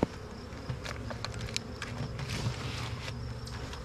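Bees buzz around an open beehive where a feed-sack inner cover is being placed, a steady busy drone with individual insects flying close past the listener, along with faint handling and movement sounds.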